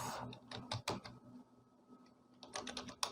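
Search words typed on a computer keyboard, quiet, close clusters of quick key clicks with a brief pause in the middle, and no talking.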